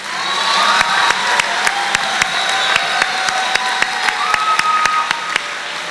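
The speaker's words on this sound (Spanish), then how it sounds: "Un fuerte aplauso para los maestros y todo el personal del CEBETIS" A large audience at a CBTis graduation ceremony in Fresnillo in 2010 applauds with dense, steady clapping. Sharper individual claps stand out, and faint cheering rises now and then.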